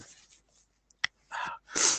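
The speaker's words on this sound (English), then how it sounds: "I was right, I sneezed." A single person sneezes close by, a sharp inhaled build-up then a loud explosive burst at the end, after a faint click and some breathy noise.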